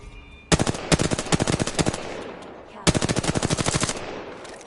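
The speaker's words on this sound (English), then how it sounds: "Knuckle cluster's firing." Knuckle cluster weapon in a video game, two long bursts of rapid evenly spaced impacts, loud and close, separated by a short gap.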